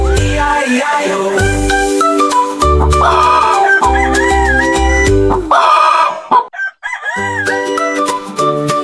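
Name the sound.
hens clucking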